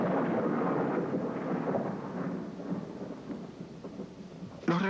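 Deep rolling thunder from lightning in a storm, a broad sustained rumble throughout with no voices, ending in a brief sharper crack or burst near the close.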